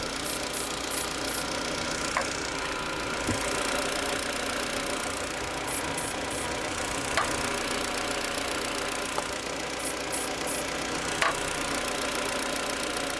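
The engine of a 1999 Ford Fiesta with a cold-stalling fault idles steadily under the hood, a continuous close rumble with a few faint ticks and no talking.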